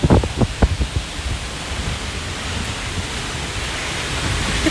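A waterfall pours down in a broad, steady hiss of splashing water, close and enveloping, with a few bumps and thumps near the start before the rush settles into an even roar.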